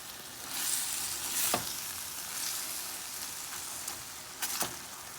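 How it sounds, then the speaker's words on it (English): A pot of salted fish with seasonings is stirred over heat, giving a soft continuous sizzle with a few sharp scraping clicks of the spoon against the pot. "I'm gonna give this a mix."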